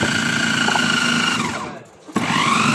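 A manual onion chopper grinds with a steady whirring mechanical drone as it is pressed down on an onion, dropping away briefly before a sharp click and the whirr starts again.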